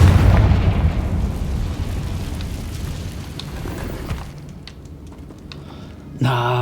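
A Confringo blasting spell detonates in Hogwarts Legacy, a heavy booming explosion at the start that rumbles and slowly decays over several seconds, followed by a brief sharper burst near the end.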